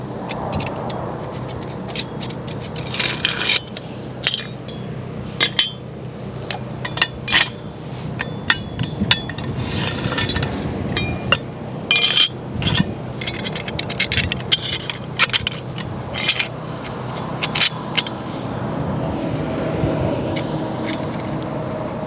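Metal plates and braces being fastened with carriage bolts and nuts while assembling a VAL-CO Sentry Plus disinfectant delivery system: close, steady clinking, clanking and scraping of metal parts, with sharp knocks scattered throughout.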